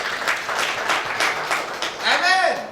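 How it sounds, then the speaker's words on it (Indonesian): Church congregation applauding together at a sermon, a steady wash of clapping lasting a couple of seconds, with voices and a rising murmur coming in near the end. "Yang setuju tepuk tangan bagi Allah."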